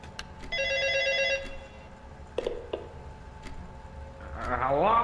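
A telephone rings in the Final Hours video game, its electronic ring repeating in short bursts over faint background game sounds, followed by a voice answering at the end.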